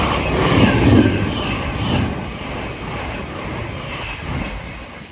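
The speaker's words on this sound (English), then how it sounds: "passing through now is a Class 700 en route from Peterborough to Horsham." A Class 700 electric train passes through Alexandra Palace on the East Coast Main Line with a loud, close rushing roar that swells early and then stays as a steady rolling rumble.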